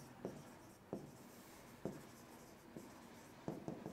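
Pen strokes on paper while working through a finance calculation, faint and close, with several short scratchy strokes spaced irregularly and a quick cluster near the end; no speech over them.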